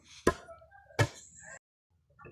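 Ingredients pounded by hand for an outdoor garden cooking of young jackfruit: two heavy, close thuds about three-quarters of a second apart, each with a short ringing tail, then quiet.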